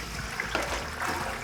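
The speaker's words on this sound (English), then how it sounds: "So I'm gonna add our water." Water pours into a mixing container for prosciutto bread dough in a bakery, a steady close trickle and splash lasting the whole short moment with no talk.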